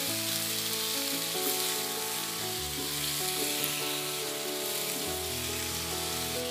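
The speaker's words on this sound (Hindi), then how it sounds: "इसको हमने मैक्सिमम 2 से 3 मिनट तक फ्राई करना है" Ginger, red chili and tomato frying in a pan for a chutney, a steady close crackling sizzle that stays loud and even throughout with no one talking.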